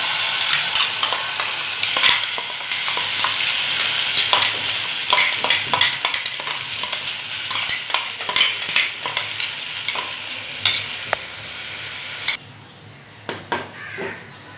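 Spiny gourd (kakrol) paste frying and sizzling in a pan, with steady crackling and repeated sharp scrapes and clinks of a spatula stirring against the metal, close and continuous before easing near the end.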